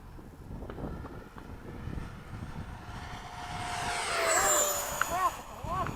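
A Freewing 70mm F-35 RC electric ducted-fan jet, flown with landing-gear trouble, makes a low pass, its whine rising and sweeping past with a Doppler drop near the end, over wind noise and people talking.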